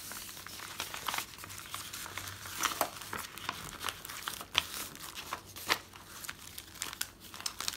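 Paper crinkling and rustling close up while a sleeping journal cover is folded, with irregular crisp crackles and soft creases in uneven bursts.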